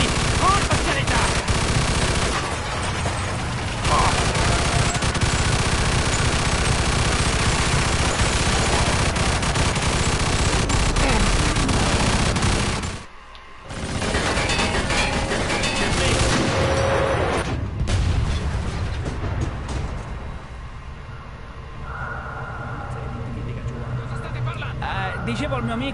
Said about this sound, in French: Ils envoient l'artillerie.